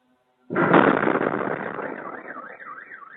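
A loud explosion bursts suddenly after a moment of silence in war footage from the Kursk region, then its roar decays over about two seconds into a wavering siren-like tone.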